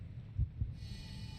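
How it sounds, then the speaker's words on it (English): A heartbeat sound effect in Final Fantasy XIV: two low, muffled thumps in quick succession over a faint steady hum, soft and heavy like a single heartbeat. "You heard that heartbeat?"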